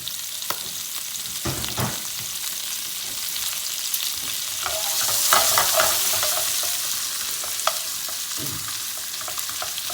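Vegetables sizzle steadily in extra virgin olive oil in a pan, a continuous close frying hiss broken by scattered clicks and scrapes of stirring.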